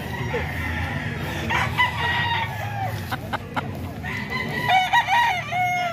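A rooster crows twice, loud and nearby, over a steady murmur of background noise and occasional clucks.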